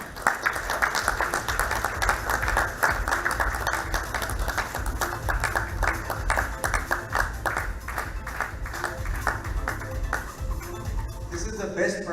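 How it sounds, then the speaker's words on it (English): Audience at a women in mobility book launch in India applauding steadily for the organisers, dense continuous clapping lasting many seconds with a few voices mixed in before it thins out at the end. "let's give a huge round of applause for the people who made this possible"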